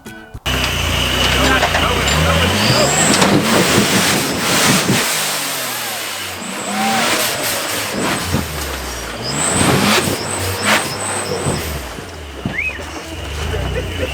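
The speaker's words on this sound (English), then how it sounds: "listen to this supercharger sing" A supercharged, stretched Jeep JK engine revs hard and loud, the supercharger whine rising and falling through repeated throttle bursts, with a brief dip midway before climbing again.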